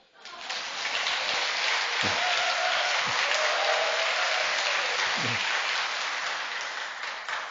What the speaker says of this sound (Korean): 저를 위해서 박수해 주십시오.